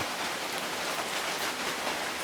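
Steady rain pours down outside a bathroom under repair, a dense, even hiss of drops striking surfaces, close and constant throughout with no voices.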